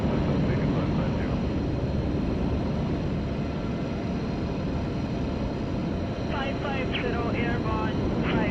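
A Singapore Airlines Airbus A350 roars steadily on its takeoff run from a Johannesburg runway, a loud continuous engine drone, with faint tonal chirps near the end.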